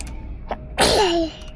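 A single loud sneeze up close, preceded by a short sharp intake, against a faint background hum.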